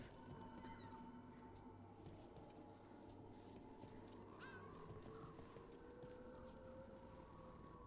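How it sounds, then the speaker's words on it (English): A cat meows inside the fantasy role-playing game Dragon Age: The Veilguard, a faint, brief call sitting low beneath a steady bed of game ambience and music. "A minx cat."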